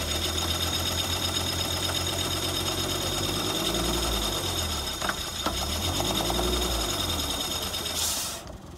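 A 1991 Toyota MR2 Turbo's 3SGTE turbo engine runs steadily up close, a continuous mechanical drone with a rapid ticking rhythm and a brief hiss near the end, with no voices.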